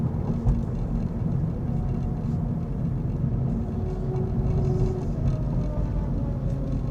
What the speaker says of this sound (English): the traffic's a lot louder on the freeway